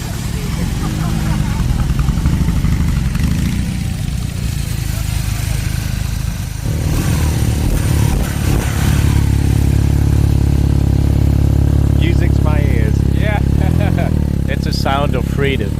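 A BMW motorcycle engine runs loud and close at a custom bike show, a steady low rumble with a revving surge midway, as people talk over it throughout.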